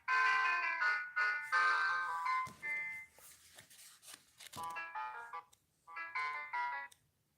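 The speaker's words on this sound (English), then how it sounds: "my theme song's not going to play" A faulty phone plays a theme-song ringtone, a bright electronic melody of bouncing tonal notes in several phrases with short gaps between them, fairly close and alone.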